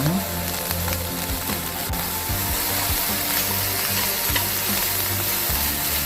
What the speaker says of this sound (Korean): 양배추 먼저 넣고 웍에다 올리브유 넣고 볶아주겠습니다